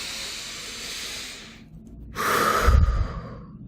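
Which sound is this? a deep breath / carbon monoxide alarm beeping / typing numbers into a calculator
a deep breath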